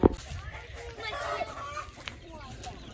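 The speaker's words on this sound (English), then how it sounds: "So we are here to get our first ever chickens." Chickens clucking at a farm or poultry seller's while first birds are picked out, several short clucks and murmurs close by over a brief span, with people talking in the background.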